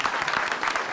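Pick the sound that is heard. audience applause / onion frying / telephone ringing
audience applause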